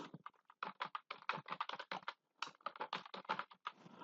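Fingers type quickly on a computer keyboard while entering text in an MS Excel spreadsheet, a close, dense patter of key clicks with one short pause.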